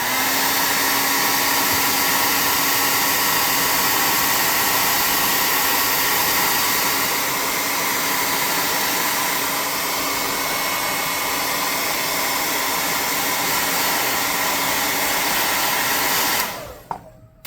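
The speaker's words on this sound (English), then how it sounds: "I'm going to hit it with the hot air gun" A hot air gun blows steadily and loudly over black base-coated paint on a handmade tabletop miniature monster, a continuous whooshing roar lasting about sixteen seconds before cutting off abruptly.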